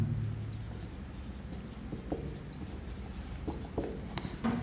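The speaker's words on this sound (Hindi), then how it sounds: "यहां लिख देता हूं मैं" Writing on a board during a classroom lesson, with faint scratchy strokes in short bursts under a steady room hum and no talking.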